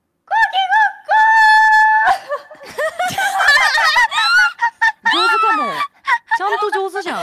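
A person imitates a rooster crowing with several loud, wavering, pitch-sliding cries in a row, some stretched into long held calls, with snickering laughter mixed in between.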